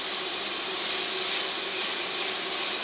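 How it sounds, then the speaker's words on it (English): Onions sweating and sizzling in a soup pot for a shrimp, kale and white bean soup, a steady close hiss that runs without a break and with no talk. "The onions are sweating down."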